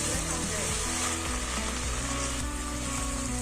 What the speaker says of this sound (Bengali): এখন ভালোভাবে নাড়তে হবে।